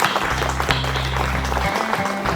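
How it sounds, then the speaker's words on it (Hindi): An audience claps loudly and steadily at a shop inauguration ceremony for a Durashine shop opening in India. The applause is dense and continuous and fills the whole stretch. "हम लोग एक बार जोरदार ताली पोरवाल साहब के लिए बजाएं"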